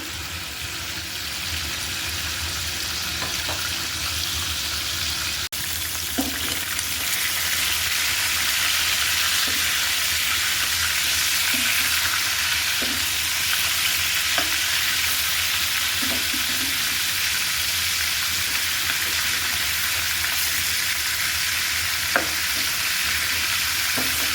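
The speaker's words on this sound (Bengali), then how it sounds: "বাকিগুলো কিন্তু আমি ভেজে নিচ্ছি।" Ingredients for chicken pulao fry in a pan with a loud, continuous close sizzle, punctuated by soft periodic taps and scrapes of stirring, with no voices.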